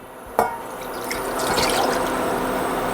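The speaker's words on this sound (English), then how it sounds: "I'm going to add a cup of water to that." Water splashes and pours steadily into a pot after a sharp clink, a continuous filling sound close by with no talking.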